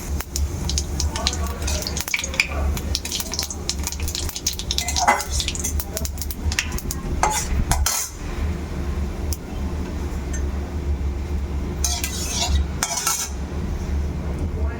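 Cumin seeds and bay leaf sizzling in hot oil for tempering, a steady loud crackle throughout with scraping and clinking of a spatula stirring in the pan.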